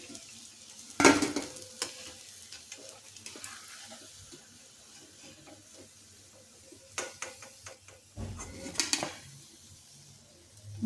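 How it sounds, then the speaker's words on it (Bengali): Fig and chana dal koftas fry in oil with a low simmering sizzle, broken by two loud clattering bursts of a utensil knocking against the pan as they are turned and lifted, with no speech. "কোপ্তাগুলো উল্টে পাল্টে বেশ লাল লাল করে ভেজে নিলাম।"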